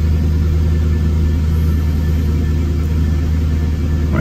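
A 1997 Jaguar XK8 engine idling just after starting, a steady loud low rumble close by, with no talk over it.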